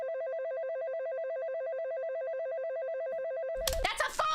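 Ueno station train departure melody playing as a steady repeating electronic chime that closely resembles a phone ringtone, loud and continuous, with voices breaking in near the end.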